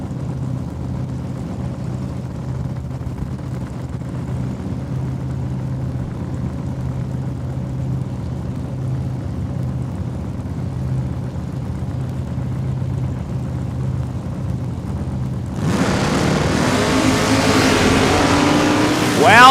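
Drag racing cars running the quarter mile at Saskatchewan International Raceway, a steady distant engine drone that suddenly bursts into a loud, close, broadband roar of acceleration near the end, with faint commentary underneath.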